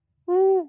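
A human voice imitating a neighborhood bird's call, a single short hooting tone that bends slightly at the end, close and clear with nothing else around it.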